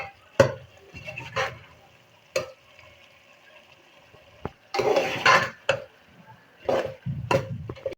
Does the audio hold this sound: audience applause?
no